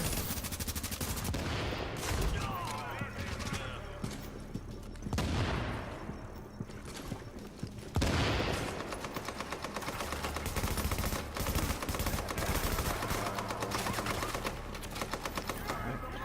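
Light machine gun fire in the shooter game The Division, sustained loud rapid bursts with dense crackling shots and impacts running almost continuously, a brief lull midway, no voices over it.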